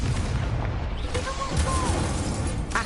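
A Confringo blasting curse explodes in the Hogwarts Legacy video game, a dense booming burst that fills the whole short moment with loud rumbling noise and no speech.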